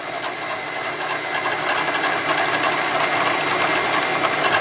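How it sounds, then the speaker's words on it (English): Center drill cutting a small starting dimple in stainless steel, a steady, continuous grinding whir with dense high-pitched scraping that holds fairly loud and even for the whole stretch, with no talking. "I am going to go ahead and take a center drill and create"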